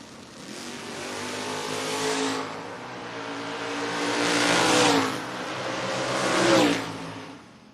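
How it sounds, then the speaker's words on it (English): Drag race between a Ford and a Chevrolet Camaro at a Door Wars event: loud engines roar and rev in three swelling bursts, climbing in pitch as the cars launch and accelerate down the strip. "Rock out of Percassi, Pennsylvania, 586 dial-in for the Camaro"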